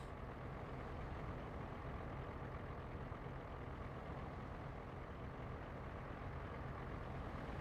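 Steady, dense road traffic in American Truck Simulator, a continuous low rumble of trucks and cars passing with no gaps, loud and even throughout with no talking.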